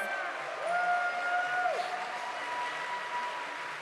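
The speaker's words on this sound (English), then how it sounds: "Let's get another big round of applause for our NIC champion, James Evans." Audience applause honoring the Pokémon VGC Masters Division champion at the North America International Championships: steady, fairly distant crowd clapping that runs throughout, with a faint tonal sweep and some arena murmur.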